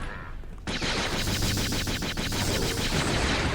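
Gunfire in Star Wars Jedi Knight II: Jedi Outcast on the Kejim Post level: a dense, loud run of rapid blaster-style shots in a steady rhythm, starting abruptly and continuing over constant background noise.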